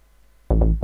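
Technobase 01 sample played back in the LMMS AudioFileProcessor: after half a second of silence, two loud, heavy, bass-rich hits land close together, and the second one is cut off at the end.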